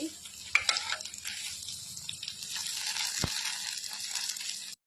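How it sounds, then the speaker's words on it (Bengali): Sago potato pakodas frying in very hot oil in a kadai, a steady close sizzle with occasional spatula scrapes and turning, sharp pops at the start. "উল্টে পাল্টে ভালো করে ভেজে নিচ্ছি"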